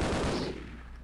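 A short burst of rapid gunfire in the video game Half-Life rattles loudly, then trails off with a fading echo.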